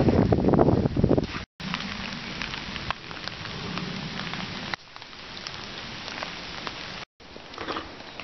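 Steady rain drumming on a tent at a wet British bushcraft camp, a dense close patter that continues throughout with a brief gap or two, some wind noise against the microphone, no voices.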